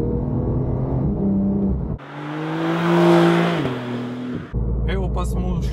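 Porsche 992 4 GTS driving through congested Ljubljana city traffic, its engine droning steadily then swelling into a louder, fuller roar mid-clip before settling back, with a brief squeak of other noise at the end.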